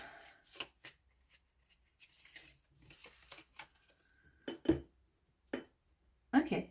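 Oracle cards being shuffled by hand: a few scattered soft riffles and slaps, with brief bursts of the deck being worked, fairly close and moderately quiet, and a person talking intermittently around them.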